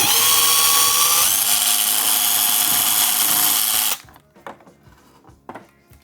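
A power drill bores a final hole through a plastic part for a Ghostbusters HasLab proton pack, whining loudly and steadily for about four seconds, then cutting out into faint handling clicks and knocks.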